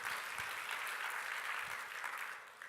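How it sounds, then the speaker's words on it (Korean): A church congregation at a Korean service breaks into applause, a soft but continuous patter of many hands clapping that holds steady and then tapers off at the end. "감사의 박수해야 됩니다."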